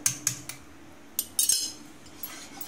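Utensil scraping and clinking against a metal pan while a thick homemade medicine mixture is stirred, a few sharp clinks scattered over a quiet, close background.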